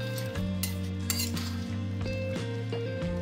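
Sugar being stirred into gota sedho, a Bengali boiled vegetable and pulse dish, in a pot, with a few metal spoon clinks and scrapes close by over steady background music.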